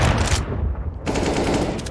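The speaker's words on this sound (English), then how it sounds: "YOLO Solo is spamming the wall" Automatic gunfire in CS:GO, a player spraying through a wall during a Corporate League match: a loud, rapid burst of shots, a brief drop, then another sustained volley, close and harsh.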